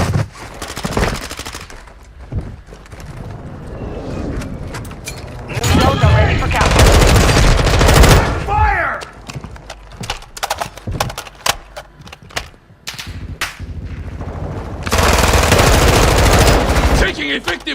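Call of Duty Warzone 2 firefight: bursts of automatic gunfire and single shots, loud and close, alternating with quieter gaps of distant shooting and game sounds.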